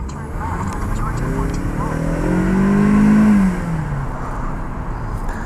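A 2016 Ford Mustang V6 engine revs during a ride, its drone climbing in pitch to a peak and easing back down, heard from inside the cabin under a voice talking.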